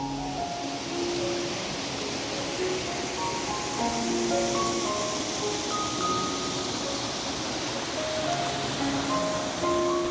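Cold river water tumbling at Seethar Kundu waterfall in Kollangode, Palakkad, makes a constant, even roar like surf, steady and moderately loud throughout, with faint tonal traces of distant music underneath and no talk.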